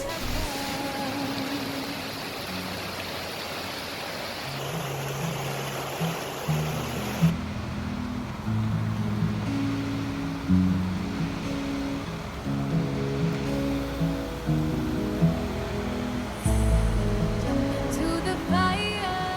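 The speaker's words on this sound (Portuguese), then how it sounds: "uma parada na linda cachoeira La Nutria" The La Nutria waterfall along the Carretera Austral sends out a steady broadband roar of rushing water that runs through the whole stretch, with musical tones layered over it.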